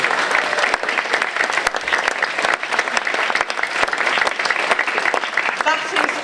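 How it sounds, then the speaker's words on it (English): Conference audience of carers giving a sustained round of applause, dense steady clapping from many hands close by, with a little voice underneath. "Well, we'll give you a clap."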